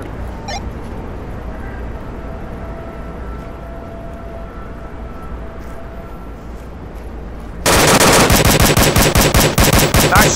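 Automatic gunfire in the subway map of the virtual-reality shooter Onward VR erupts as a loud, rapid burst of close shots after a quiet stretch of faint room tone.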